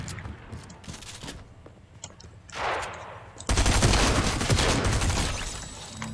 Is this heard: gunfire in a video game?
yes